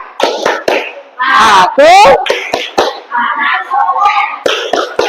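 Classroom children perform the tepuk anak soleh rhythmic clapping chant, sharp hand claps punctuating their sung, chanted lines in a close, lively rhythmic pattern.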